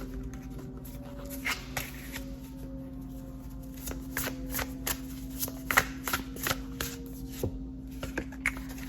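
Oracle cards are shuffled by hand in a quiet room: a steady run of soft papery riffles and crisp snaps, close and fairly loud, with no talking.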